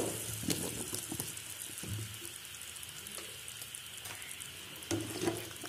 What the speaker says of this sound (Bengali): আমগুলোকে নেড়ে চেড়ে মিশিয়ে দিচ্ছি।